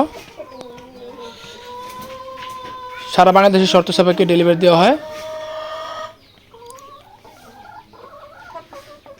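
Layer, Fayoumi, Misri and native chickens at a hatchery farm in Kashimpur, Mymensingh, with clucking and crowing-like calls heard under steady close talk, a louder fowl outburst in the middle.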